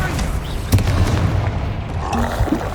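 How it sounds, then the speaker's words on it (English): Booming spell blasts burst amid a chaotic Hogwarts Legacy battle against a troll, a couple of heavy hits standing out over a dense wash of game noise as voices call out. "Confringo! Defender! Glaciers! Bombarder!"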